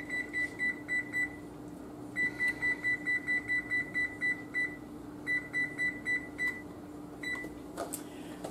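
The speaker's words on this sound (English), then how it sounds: "Let's set the timer." A kitchen timer is being set for a friendship cake, giving out rapid bursts of short, bright electronic beeps in clustered runs with brief pauses between them, over a steady low hum.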